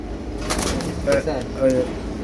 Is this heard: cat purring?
no